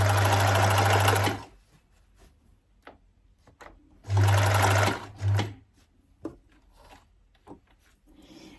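A sewing machine stitches through the very thick bottom hems of ready-to-wear Levi jeans, loud and close in two fast runs separated by quiet handling, followed by a brief third burst.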